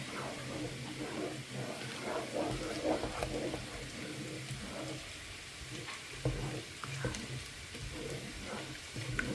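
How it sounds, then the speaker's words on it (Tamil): Sambar being stirred in a cooking pan, a faint close bubbling sizzle with soft scraping and clinking from the spoon at irregular moments. "சாம்பார் ஊற்றிட்டேன் அப்படியே கலந்து விட்ருங்க"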